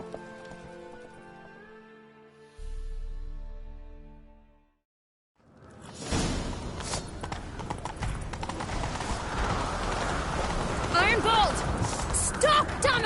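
Galloping horse hooves from The Witcher 3 game drum in a quick clip-clop rhythm after a short pause, under game music and spoken dialogue.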